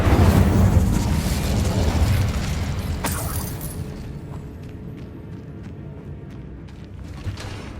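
In Hogwarts Legacy, a Confringo blasting spell explodes in a loud booming burst that rumbles and then fades into lighter crackling and clinking debris over several seconds; no voices.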